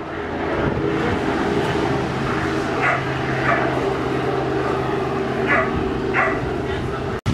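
A dog barks in short excited bursts at a dog beach on Sanibel, close by, over steady wind or engine hum with voices talking.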